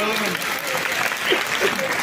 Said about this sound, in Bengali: হাততালি দাও জোরে দেখি।